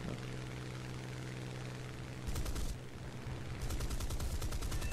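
Four 20 mm cannons on a Hawker Typhoon fire in War Thunder, two bursts of rapid booming shots over steady aircraft engine drone, the second burst longer and louder.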